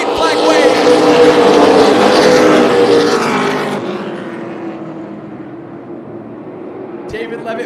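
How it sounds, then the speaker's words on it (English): Super late model race cars roar away together at the green flag at Tucson Speedway on championship night, a loud engine din that fades as the pack moves off, under an announcer's voice. "they have us ready to get these super late models underway"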